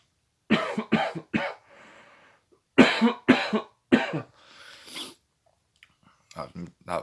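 Two bursts of three sharp, harsh coughs close to the mic, each burst followed by a short raspy breath, with a quiet pause between them.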